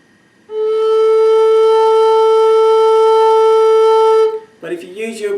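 A flute held on one steady, unwavering note without vibrato, loud and close for about four seconds, with a brief burst of talking right after it stops.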